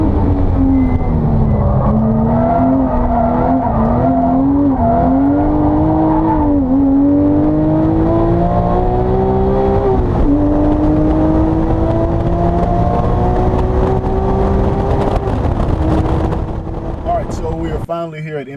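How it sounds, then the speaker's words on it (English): A Porsche 911 GT3 of the 997 generation laps a race track. The flat-six wails steadily inside the cabin, its pitch climbing and dropping with each gear change, loud and continuous, with talk over it throughout. "We're going to get a few laps in the GT3"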